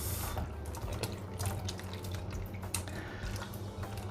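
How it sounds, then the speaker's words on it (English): Tap water runs steadily into a bowl of baking soda water as mushrooms are washed under it, a close, continuous splashing rush with light clinks and no talk. "mushrooms as well in a little baking soda water as well. We're just gonna wash them off."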